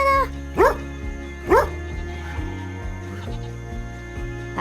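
A sheepdog in the video game Hubert gives two clear, loud barks over steady background music, with no voices.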